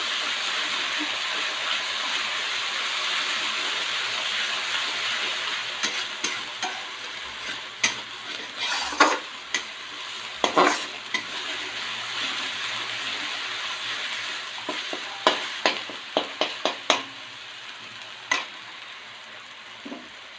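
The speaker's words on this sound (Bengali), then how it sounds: "একটু মশলাগুলো দিয়ে এর মধ্যে একটু ব্রাউন কালার করে ভেজে নেব" Spices fry and sizzle in a pan for a curry, a steady close hiss with scattered sharp crackles and stirring clatters, loudest bursts toward the end.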